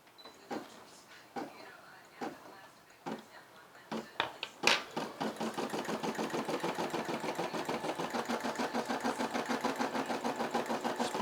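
Brother SE600 embroidery machine stitching a logo: a few separate clicks and thumps, then a steady fast rhythmic stitching chatter that runs close and even to the end.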